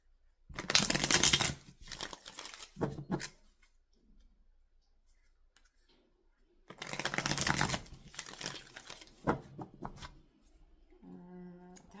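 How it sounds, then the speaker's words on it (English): Tarot cards being shuffled by hand, two longer riffling bursts of crisp papery flutter separated by quiet, with a few short card snaps between and a faint ringing tone near the end. "Was a nice smooth shuffle there"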